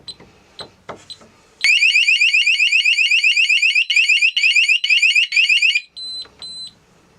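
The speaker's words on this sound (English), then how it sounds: "You have about 15 seconds of beeps now to get the code in." A rapid run of high electronic beeps from a shed alarm's entry delay pulses steadily for several seconds, briefly pauses, resumes, then gives way to a few softer single beeps.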